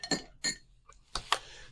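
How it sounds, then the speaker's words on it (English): A metal jigger clinks against a cocktail shaker in a few bright, sharp metallic taps spaced over a second or two, close and clear with no talk. "I set my jigger into the shaker or into the stir."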